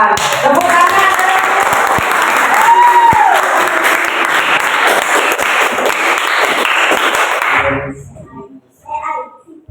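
Schoolchildren in a classroom burst into loud, dense applause that holds steady for several seconds with some voices mixed in, then stops abruptly, followed by a brief murmur.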